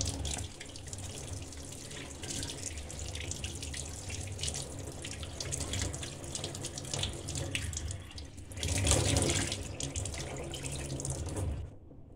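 Water runs steadily from a tap into a sink during handwashing, a close continuous splashing stream that briefly grows louder near the end before cutting off abruptly.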